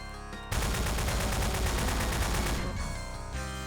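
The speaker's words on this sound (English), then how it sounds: "We'll get him with the double machine guns." Double machine guns in Haunting Dreams open up abruptly after a quiet moment and fire a loud, rapid, steady stream of shots for about two seconds before it tapers off.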